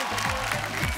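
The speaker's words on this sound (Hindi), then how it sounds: "तालियां हो जाए विवेक के लिए।" Brief, steady burst of audience applause for Vivek at the Nach Baliye Season 8 finale, a dense wash of clapping with a low murmur of voices underneath.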